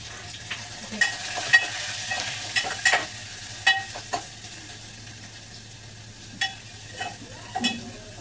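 Onion and chili frying in a pan for dal tadka, a soft sizzle under repeated spoon scrapes and taps against the pan, spaced irregularly, over a low steady hum.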